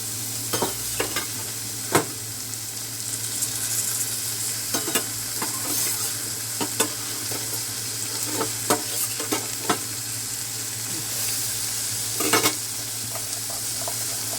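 Prawns fry with soft-cooked eggplant in a pan, a constant close sizzle broken by sharp clicks and scrapes of stirring at irregular intervals.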